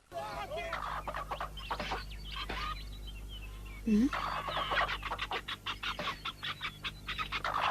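Cartoon chickens cluck in quick repeated bursts that grow denser toward the end, close and fairly loud, mixed with a voice.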